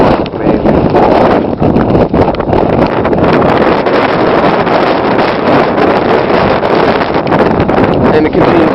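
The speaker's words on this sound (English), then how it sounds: "The force of the wind against you is nothing short of amazing." Strong blizzard wind gusting at around 35 miles an hour with snow falling, a loud, constant roaring buffet across the microphone that never lets up. Harsh and close, with no clear voices.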